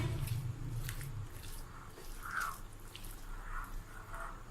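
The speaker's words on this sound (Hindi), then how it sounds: "चिकन को मैंने मिक्स कर लिया।" Marinated chicken being mixed by hand or spoon, giving soft, wet squishing and squelching sounds that come and go quietly and close up, with no talking.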